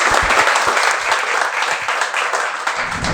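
Loud, enthusiastic applause for a student from a roomful of people, a thick continuous patter of clapping hands close and full for the whole short span.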